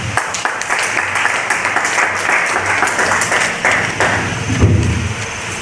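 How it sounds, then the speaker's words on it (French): Steady audience applause at a closing ceremony of a media-support evaluation workshop in Kasaï Central, many hands clapping continuously with a few sharper thumps, loud and close throughout. "que je vous invite à applaudir"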